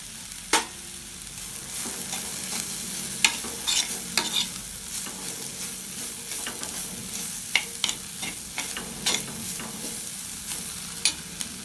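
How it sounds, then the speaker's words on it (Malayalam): Muringakka (drumstick) thoran stirred with salt in a pan: a spatula scrapes the vegetables with sharp, scattered clinks against the metal over a faint continuous sizzle, close and unaccompanied by voices. "ഉപ്പ് ചേർത്തതിന് ശേഷം നന്നായി ഒന്നുകൂടി ഇളക്കി കൊടുക്കണം"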